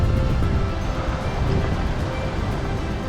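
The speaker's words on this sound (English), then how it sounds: "waves become bigger" Ocean surf churning under hurricane winds on the Riviera Maya coast during Hurricane Zeta, a steady, dense roar of breaking waves and gusting wind close by, with no pause across the whole stretch.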